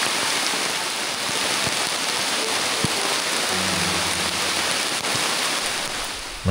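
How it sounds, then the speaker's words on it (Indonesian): Light rain falls steadily outdoors in the mountains of Bima, West Nusa Tenggara, with soft continuous patter on surfaces and a few faint low knocks. "Mendung mulai berubah menjadi rintik hujan."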